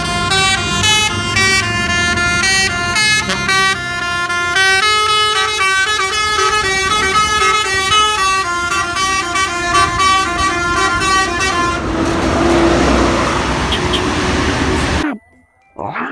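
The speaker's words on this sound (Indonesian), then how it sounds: "Wow, yang ini ada bus Blue Star teman-teman." Blue Star bus horn honking in a long, steady melodic pattern of repeated tones, loud and close, ending in a burst of engine noise before a brief cutoff.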